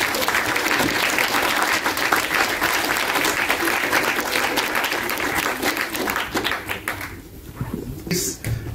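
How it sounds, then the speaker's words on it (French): Applause breaks out after a contract signing ceremony, with dense clapping from a crowd that holds strong for several seconds, then thins into scattered claps and a few sharp knocks near the end. "on peut les applaudir."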